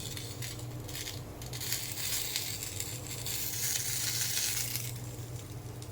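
Oil sizzling steadily in a pan as shrimp wrapped in leaves fry, a continuous bright hiss with faint scraping stirs throughout.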